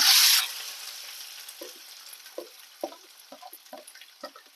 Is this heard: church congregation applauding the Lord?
no